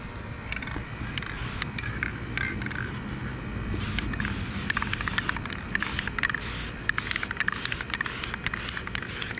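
Spray paint hisses in a steady, close rush of noise as it coats car light clears, with short crackling spurts and faint clicks of the nozzle running throughout.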